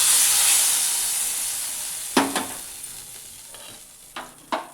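Hot tempering of asafoetida and chili flakes sizzles into dal fry, a steady hiss fading gradually, with a few sharp stirring clinks of a spoon against the pot near the end.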